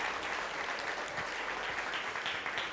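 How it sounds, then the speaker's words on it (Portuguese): A church congregation claps steadily through a communion worship service, dense continuous applause filling the room from start to finish with no voices on top. "Pode dar uma salva de palmas para Jesus."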